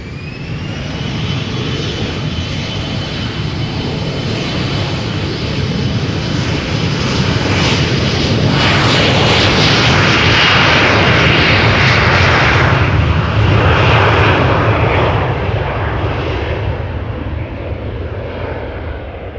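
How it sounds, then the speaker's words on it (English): KLM Embraer airliner passing at Amsterdam airport, its jet engines roaring loud and close, swelling to a peak midway and then holding a steady broad rumble with a high whine. "over here, another KLM Embraer"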